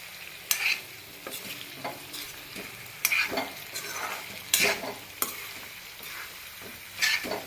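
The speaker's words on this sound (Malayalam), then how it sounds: "നാരങ്ങാനീര് ചേർത്ത് കൊടുത്ത് നമുക്കൊന്ന് ഇളക്കിയെടുക്കാം." Potato capsicum masala being stirred in a pan after lemon juice goes in, with a spoon scraping and clanking in a steady rhythm over a soft sizzle, several distinct strokes close up and no talking.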